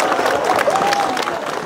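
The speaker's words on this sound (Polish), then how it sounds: "Jeszcze raz gorące brawa dla Orkiestry Dentej z Dobrynina." An outdoor crowd at a brass band parade and competition in Tyczyn claps warmly in a dense, even patter that holds steady throughout. A voice is faintly audible under the clapping.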